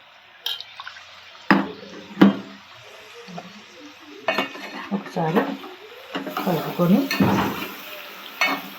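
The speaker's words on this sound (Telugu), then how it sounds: "ఇప్పుడు వంకాయ ముక్కలు వేసుకుంటున్నా చికెన్లోకి." Eggplant pieces are tipped into a pan of chicken curry with tomato and stirred, giving scattered utensil clanks and scrapes against the pan over a soft sizzle that builds louder toward the end.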